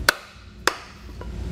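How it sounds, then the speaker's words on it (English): A dead blow hammer taps a block of wood set on a trailer wheel bearing, driving it into an 8- or 10-inch hub: two sharp, close thuds about half a second apart, then a faint third knock. "put that on there and take a dead blow hammer. Start to lightly tap."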